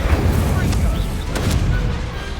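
Spells such as Accio, Leviosa and Incendio are cast in a Hogwarts Legacy duel, a loud, dense wash of rumbling blasts and whooshing magical bursts that runs continuously.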